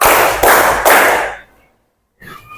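Fourth-grade pupils in a classroom clap in unison: three loud, evenly spaced group claps close by, followed by a short silence and a faint sound at the end.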